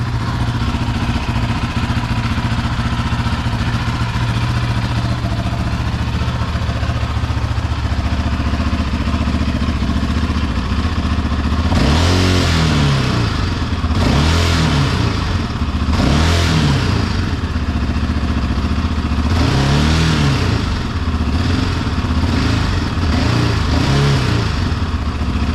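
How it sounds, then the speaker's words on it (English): A 700 ATV engine runs steadily at idle, then revs hard in several loud, close bursts of throttle that rise and fall, with the engine's rumble carrying throughout. "It's been a while since I turned on my ATV."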